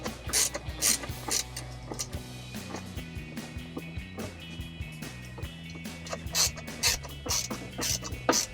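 A screwdriver works screws on a 2005-2015 Toyota Tacoma center console lock box, giving close repeated ratcheting clicks and scraping in an irregular rhythm.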